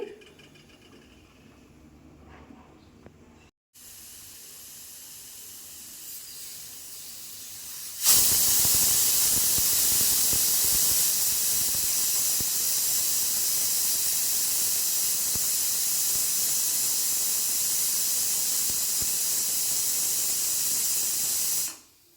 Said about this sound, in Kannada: ಮೂರು ವಿಷಲನ್ನು ಕೂಗಿಸ್ಕೊಂಡು ಹವೆ ಎಲ್ಲ ಹೋದ್ಮೇಲೆ ಇವಾಗ ಓಪನ್ ಮಾಡ್ತಿದ್ದೀನಿ